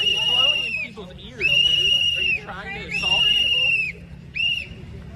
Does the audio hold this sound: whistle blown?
yes